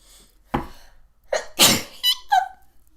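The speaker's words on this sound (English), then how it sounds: "I feel like I'm going to sneeze." A single sharp sneeze bursts out close by, a quick breathy intake followed by an explosive burst, then a few short vocal sounds trailing after.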